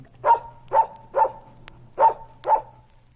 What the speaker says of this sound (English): Another little dog.